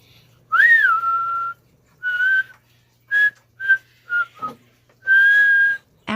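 Kids whistle a podcast theme melody in separate phrases: a rising opening note, then several short clipped notes and a longer sustained tone, close and clear with a soft hum beneath.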